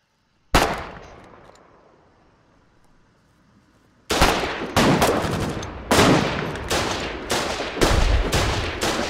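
Gunfire in a video game: one sharp shot with a decaying tail, a quiet gap, then a rapid run of loud, close bursts that repeat for several seconds.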